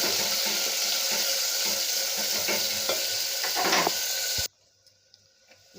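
Garlic, green chilli, curry leaves and chopped tomato sautéing in a pan for a spinach-stem dal, a loud steady sizzle with scraping stirs, then it cuts off abruptly to near silence with a few faint knocks.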